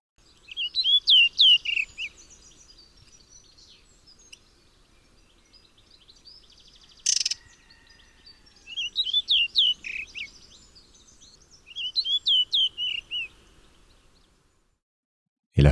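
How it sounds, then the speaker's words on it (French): A blue rock thrush sings in bursts of clear, high, warbling phrases, repeated in four separate bouts with short quiet gaps, close and distinct against a calm background, with a brief knock near the middle. "Le monticole bleu."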